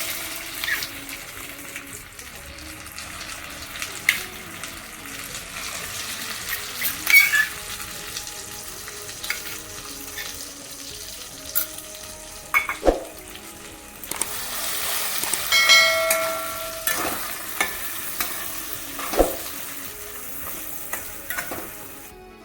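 Green pea paste frying in a wok at home, a continuous soft sizzle with occasional scrapes and stirring taps, close and steady throughout, no voices.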